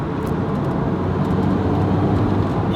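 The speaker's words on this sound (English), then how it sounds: "loads of the supercharger noise" A Lotus Elise 220 Cup with a supercharged engine built from a Prius base, fitted with a TRD airbox, drones with a dense steady roar and supercharger whine throughout, loud and continuous from inside the car.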